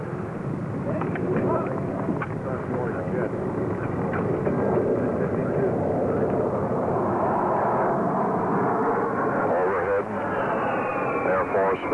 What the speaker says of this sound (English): S-1, the presidential aircraft.